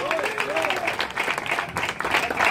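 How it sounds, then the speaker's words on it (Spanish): Congregation applause fills a church service, a dense steady wash of clapping mixed with cheering voices and a raised shout over it, holding for a couple of seconds. "Denle un aplauso a Jesucristo fuerte."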